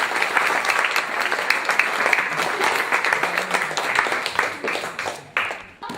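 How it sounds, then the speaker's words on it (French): Audience applause after a children's theatre workshop performance, a dense, steady patter of many hands clapping for several seconds before tapering off at the end. "Applaudir encore."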